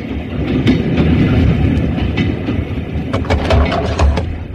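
A train rolls along the railway, loud and close, with a continuous rumble and rhythmic clickety-clack of wheels, plus a few sharp knocks toward the end and no speech.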